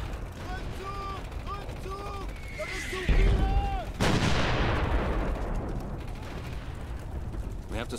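Heavy German 88 guns fire in a Company of Heroes battle on Omaha Beach in Normandy, with a big booming blast near three seconds and a long rumbling decay, preceded by whistling tones and mechanical clatter, alongside faint voices.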